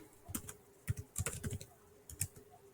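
Keys clatter on a computer keyboard as a terminal command is typed, short bursts of quick, close clicks separated by brief pauses, quiet and with no talking.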